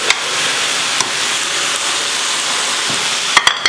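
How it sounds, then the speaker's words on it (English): Steady, loud sizzling of bacon frying in a pan, a constant crackling hiss broken by a few sharp pops and spatters near the end. "At the same time goes our bacon on. Everything is nicely sizzling"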